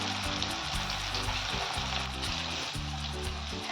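Small dollops of thalipeeth batter frying in hot oil, a dense continuous sizzle and bubbling, close up, with faint low knocking underneath and no speech.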